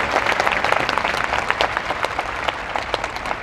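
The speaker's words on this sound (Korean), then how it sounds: "여러분 박수 한번 부탁드리겠습니다" An audience applauds at a parliamentary hearing, with dense, sustained clapping from many hands at an even level throughout, and a faint murmur of voices beneath.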